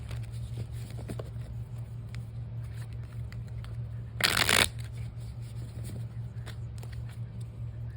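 A tarot deck is riffle-shuffled once, a short crisp burst of fluttering clicks over steady low background music.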